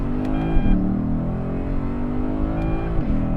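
A 2010 Lexus IS-F accelerates hard, its V8 engine droning loud from the cabin as the pitch rises steadily, dips briefly at a gear change, then climbs again before another shift near the end.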